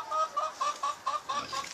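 Chickens on a family homestead cluck in a series of short, repeated calls, close by and fairly clear, with no talk.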